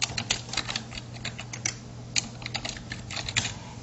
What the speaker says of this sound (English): And I can double click in the next box and type in